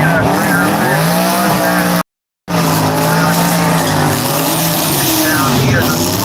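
A drag racing car making a pass at a Florida drag strip event, engine roaring loud and steady with rising harmonic whine, briefly cut off for a split second; commentators talk over it throughout.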